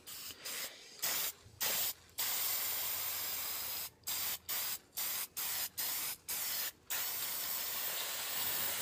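Bursts of aerosol spray paint from an unshaken can, hissing in a series of short and longer blasts separated by brief pauses, close and steady, with no talking.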